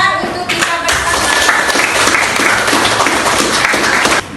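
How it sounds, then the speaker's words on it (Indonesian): Classroom students clapping together at the end of a lesson, loud, dense, continuous applause filling the room before dropping away near the end. "Oke, tepuk tangan untuk kita bersama."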